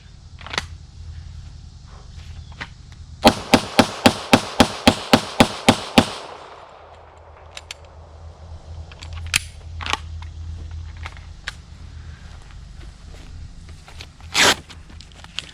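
AK-47 firing about ten rapid shots at soft body armour at close range, a loud evenly spaced string of sharp cracks, followed by a quiet outdoor stretch with scattered faint knocks and a later thump.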